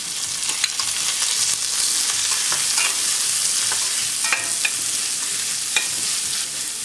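A bunch of curry leaves fries in hot oil in a pan for a dal dumpling gravy, giving a steady close sizzle with occasional sharp pops and stirring scrapes throughout.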